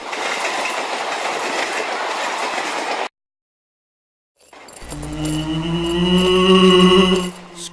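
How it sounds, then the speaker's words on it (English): A maglev train rushes past with a loud broadband whoosh, falls briefly silent, then returns as a rising tonal whine that swells and cuts off. "Scary maglev."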